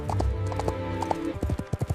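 A golden horse's hooves clip-clop in steady rhythm through an animated fairy tale, fairly close and clear, with soft tonal music running underneath.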